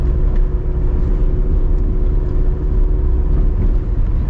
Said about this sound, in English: So you can hear the V8 a little bit more too